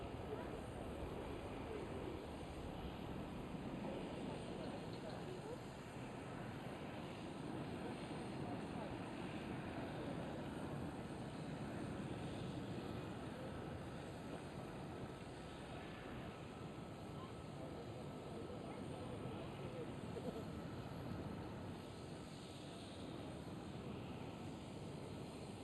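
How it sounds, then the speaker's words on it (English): A heavy KLM Airbus A330 jet airliner at Amsterdam Schiphol gives a steady, distant broadband roar that holds evenly throughout, with faint voices in the background. "Heavy KLM A330."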